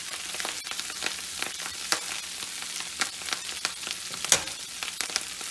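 Kale leaves sautéing in a hot pan for a keto breakfast, a steady crackling sizzle with scattered sharper pops and stirring clicks, close and moderately loud, with no talking.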